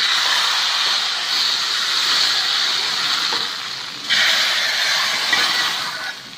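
Hot tempering poured onto vendakkai sambar sets off a loud, steady sizzling hiss that carries on for several seconds and surges again partway through.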